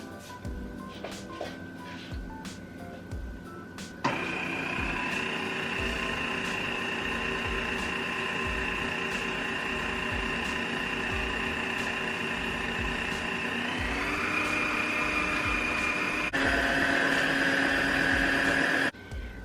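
A Sunbeam electric mixer beats brownie batter in a 1970s home economics style kitchen. A few clicks come first, then the motor whirs in a steady high drone, shifts pitch twice as the speed changes, and cuts off sharply.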